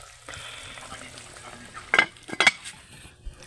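Adobo made from native chicken, braised in coconut milk, sizzles faintly in a pan. A few sharp scrapes and clinks from a utensil stirring break in near the middle.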